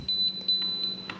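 An RC radio transmitter sounds a steady high-pitched alarm tone, faint and close, with a few brief clicks or beeps layered over it.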